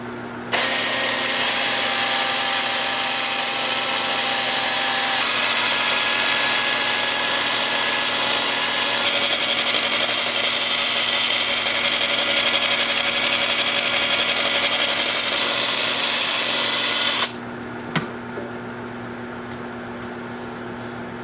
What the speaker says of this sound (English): I'm starting sanding with 80 grit